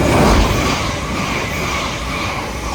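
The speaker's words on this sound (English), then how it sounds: "passing through as the 700 en route from Peterborough to London" A Class 700 train bound from Peterborough to London passes through Alexandra Palace on the East Coast Main Line, a loud close rushing roar with rolling wheel noise that eases slightly as it goes by.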